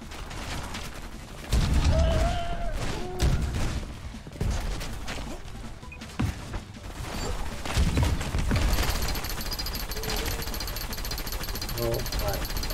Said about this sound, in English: I'm about to die, because someone else is shooting me.